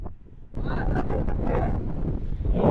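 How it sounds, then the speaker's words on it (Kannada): Loud wind at Panambur seashore buffets the microphone in a steady roaring rush, with a voice faintly audible beneath it. "ಹೆವಿ ಗಾಳಿ ಇದೆ"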